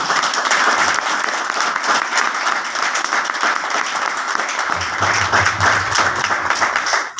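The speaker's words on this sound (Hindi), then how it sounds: "एक बार इनके लिए जबरदस्त वाली ताली।" Enthusiastic audience applause at a health supplement seminar, loud and continuous clapping throughout, with a faint low hum entering toward the end.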